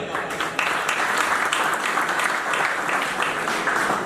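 Dense, steady applause from an audience at the opening ceremony of a cricket league's 2024 premier season, held on a cold day. The clapping fills all four seconds at an even, lively level, with a voice faintly present under it.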